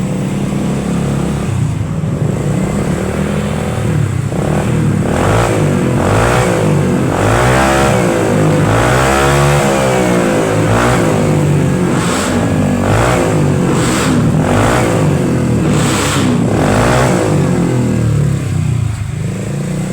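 A Honda Vario Techno 115cc scooter with a modified, bored-out exhaust revs loudly up close, repeated throttle blips rising and falling over a rough, throaty idle, with no talk over it.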